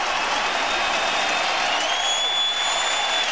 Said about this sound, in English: The loudest the crowd has been this afternoon.